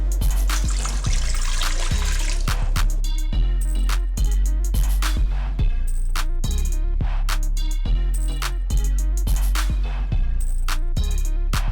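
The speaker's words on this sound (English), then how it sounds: "I'm going to start with 2 cups of water." Water pours into a bowl for a carrot marinade, two cups worth, coming in bursts of splashing and trickling separated by short pauses, close and fairly loud.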